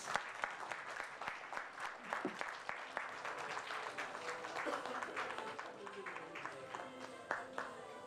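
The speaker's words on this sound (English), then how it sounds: "Let's all give a round of applause to Miss Marie Angela Espatines." An audience applauds an awardee at a youth awards ceremony, scattered sharp claps forming a moderate round of applause in a hall, with talk and crowd murmur mixed in.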